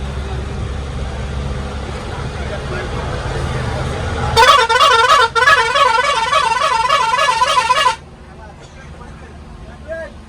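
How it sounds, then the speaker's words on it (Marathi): On a group outing to a waterfall, a nearby vehicle sounds a loud, warbling musical horn for about three and a half seconds over an engine hum while people talk. "कुठे येतोय हॉर्न मारून पण"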